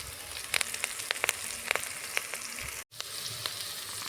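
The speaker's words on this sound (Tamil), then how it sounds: "வெங்காயம் நல்லா கொஞ்சம் வதங்கின அப்புறம் கருவேப்பிலை சேர்த்துக்கிறேன்" Onions and curry leaves frying in a pan for an egg gravy, a soft steady sizzle broken by sharp crackles and pops, fairly quiet and close, with a brief cut to silence near the end and no talking.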